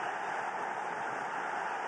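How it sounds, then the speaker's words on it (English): A steady, distant roar of Bangladesh fans cheering in a large football stadium during a match against Singapore, a continuous wash of noise with no individual voices standing out. "the noise you can hear is from the Bangladesh fans"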